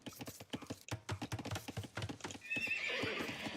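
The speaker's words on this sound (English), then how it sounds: "So the stable is up for Geo." Horse neighing and clip-clop hooves from a stable in the real-time strategy game Age of Empires II, a busy run of rhythmic clopping and whinnies followed by a steady, brighter noisy wash of game sound.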